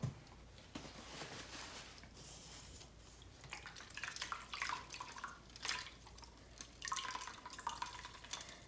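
Dyed fabric is squeezed out by hand, and water drips and trickles back into a container in a quiet series of small splashes and patters.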